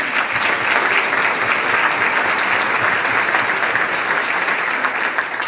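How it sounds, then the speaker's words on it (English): Loud, full applause from a breakfast audience at a chamber of commerce event, a dense, sustained roar of many hands clapping for several seconds, with no speech over it. "let's give a big round of applause to Dave Ryan"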